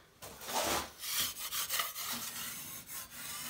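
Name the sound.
trowel scraping plaster off a metal corner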